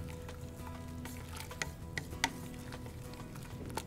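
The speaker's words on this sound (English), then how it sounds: "it's just starting to simmer a little bit, which is fine" A pot of shrimp jambalaya simmers gently, a soft bubbling hiss broken by a few quiet pops and ticks from the pot, faint and close.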